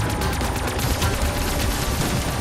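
Rapid automatic gunfire rattles nonstop at close range, loud and dense, as a player shoots the Shadow Man boss in Call of Duty's Shadows of Evil zombies map.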